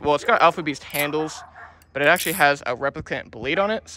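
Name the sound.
dog barking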